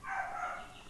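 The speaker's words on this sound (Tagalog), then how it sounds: "I-mute ko kasi may asong tahol ng tahol." A single short, faint dog bark or yelp, somewhat distant, rises and fades in about a second with nothing else around it.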